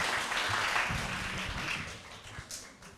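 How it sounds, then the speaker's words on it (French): A group of children at a holiday activity day applauds, with uneven clapping and some crowd noise, gradually softening toward the end. "On les applaudit très très fort."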